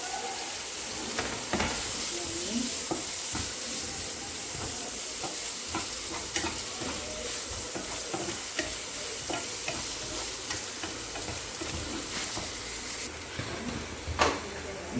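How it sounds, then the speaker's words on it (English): Onions fry and brown in a pan with a continuous close sizzle, broken by repeated scraping strokes and occasional clacks of the spoon against the pan. "The onions are nicely fried and it's turned to brown"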